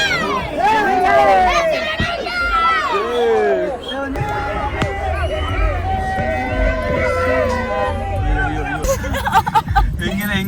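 Dense crowd babble from a packed temple courtyard at Chamundi Hills in Mysuru, a steady loud wash of many overlapping voices close around, with a few voices standing out nearby.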